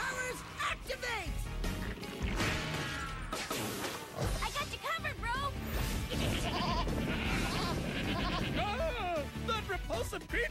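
Several goats bleating in wavering cries amid crashing, chaotic noise and excited voices talking over them.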